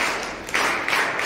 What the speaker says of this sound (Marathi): त्यासाठी एकदा जोरदार टाळ्या द्या.